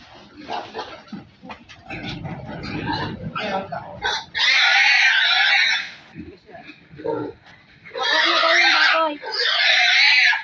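A pig being caught for sale as a roasting pig squeals in loud, shrill, sustained bursts, alternating with people talking and moving about nearby.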